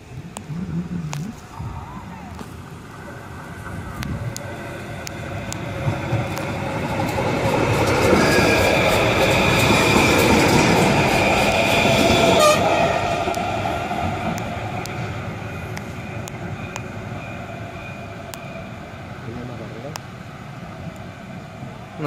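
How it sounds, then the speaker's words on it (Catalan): A TRAM tram-train rolls through a level crossing at Vila Joiosa, its rumble building to a loud close pass with wheel noise, then fading, with crossing bells ticking throughout and brief talk nearby. "Eso lo hace el tren."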